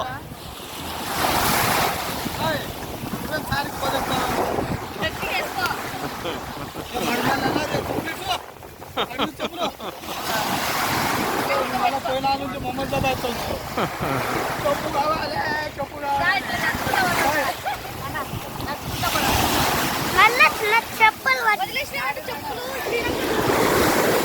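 Sea waves break and wash continuously on the beach at Rameswaram, loud and steady under strong wind buffeting the microphone, with voices faintly mixed in.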